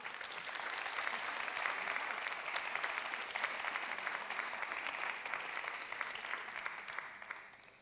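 An audience at a Neapolitan talent show applauds a contestant with sustained, even clapping from a crowd that holds steady for several seconds before thinning slightly at the end.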